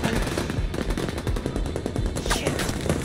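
Rapid automatic gunfire from a firefight in the video game The Division 2, loud and dense bursts of overlapping shots rattling continuously for a few seconds without speech.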